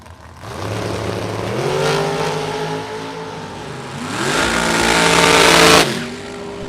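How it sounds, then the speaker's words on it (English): Two dragsters race side by side down a drag strip at a Super Pro and Pro elimination event, loud engine roar swelling as the cars accelerate with rising gear-shift tones, fading briefly then climbing again before cutting off. "up against Carla Pontillo, a pair of dragsters."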